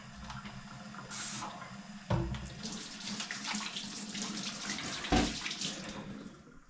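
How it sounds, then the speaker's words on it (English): Hands rinsed under a running tap, a steady close hiss of water with two brief louder splashes as the hands move through the stream, no talking. "I'm going to wash my hands real quick."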